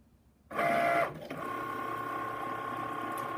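Cricut Maker cutting machine drawing a seam allowance on fabric with a fabric pen, a steady mechanical whir with tonal motor hum after a brief louder start, close and continuous with no talk.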